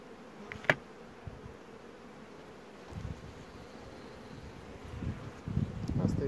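Soft, steady insect buzzing from many honeybees close by in an opened hive swarm, with occasional knocks and rustles of frames rising toward the end.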